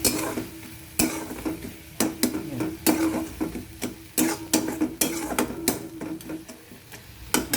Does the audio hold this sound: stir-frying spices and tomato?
yes